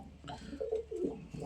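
A pigeon coos in a short, soft, rolling burst of low throaty notes, close and fairly quiet, with no talking.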